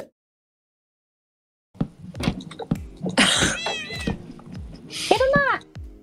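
A cat in Minecraft Java Edition lets out a couple of clear, rising-and-falling meows near the end, mixed with other short in-game noises after a moment of silence.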